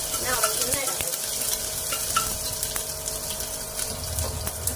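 Tomato frying in oil sizzles softly in a pan, with a spoon scraping and stirring at intervals through a steady low hiss.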